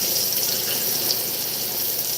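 Champagne poured from a bottle, a continuous close fizzing splash with a bright hiss of bubbles, steady and uninterrupted.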